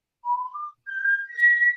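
A person whistles a short, clear melody of a few rising pitched notes in two phrases, close and solo, with nothing else in the background.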